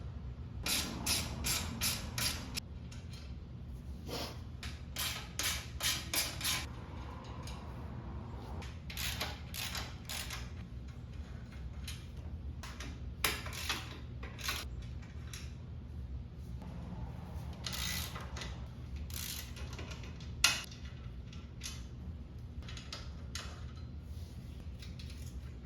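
A bumper is worked loose from a 1990s two-stroke, giving bursts of close mechanical creaking and ratcheting clicks, densest at the start, then scattered knocks and scrapes at a quieter level with no talking.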